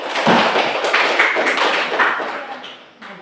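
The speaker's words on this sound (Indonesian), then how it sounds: "Beri aplaus untuk kelompok 4." An audience applauds after a group's classroom presentation, a dense burst of clapping that stays close and steady, then fades toward the end.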